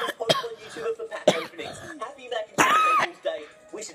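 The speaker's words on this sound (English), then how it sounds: "A cough?" A boy who feels unwell coughs and clears his throat indoors, a few harsh, separate bursts with pauses between them, followed by a longer strained cough-like sound.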